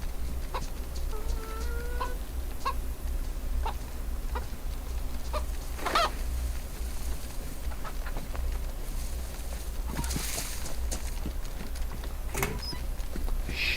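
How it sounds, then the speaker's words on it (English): A hen clucks repeatedly in the survival game DayZ, intermittent short clucks and squawks spread across the stretch over a constant low outdoor hum. "That's a hen, so I'm not worried about it."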